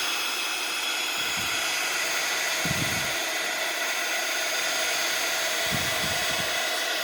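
A handheld heat tool for embossing powder blows in a constant, loud, hair-dryer-like rush of air close up, with a few faint low thumps underneath and no speech.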